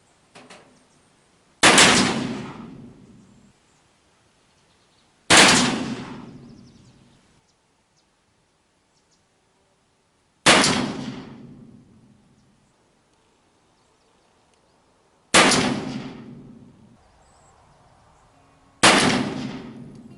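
Five loud gunshots from a Pietta 1851 Navy Colt-style revolver ring out outdoors, each a sharp crack with a long decaying echo, spaced several seconds apart with quiet between them.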